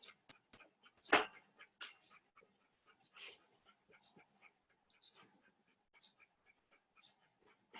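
A puppy whimpers softly and pants in short, faint bursts, close by, with quiet human voices talking around it.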